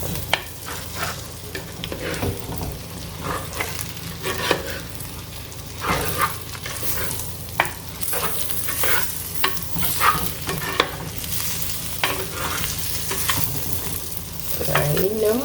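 Wild boar curry simmering in a clay pot over low heat, Jaffna style, giving a steady close sizzle with repeated stirring scrapes and clinks throughout, no talking.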